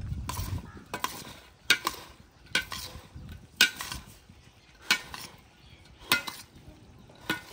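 Red chili masala and chaat masala being stirred into a pan of chaat, a spoon scraping and clinking against the pan in about eight regular strokes, each a sharp bright scrape over a soft background.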